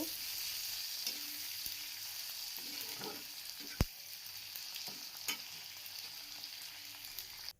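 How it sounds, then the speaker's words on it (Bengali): Chopped tomato sizzling steadily in a hot pan, a soft continuous fry with a few faint stirring scrapes and one sharp clink, close but quiet. "টমেটোটা নরম না হওয়া অবধি এটা ভালো করে কষিয়ে নেব"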